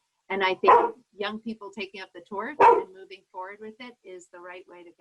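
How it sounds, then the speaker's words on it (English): A dog barks and yips repeatedly in the background during a panel discussion, its short bursts mixed in under a person speaking throughout. "And sorry for my dog in the background."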